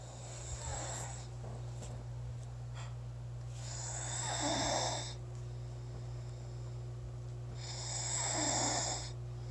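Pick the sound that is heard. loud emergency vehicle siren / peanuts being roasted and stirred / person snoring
person snoring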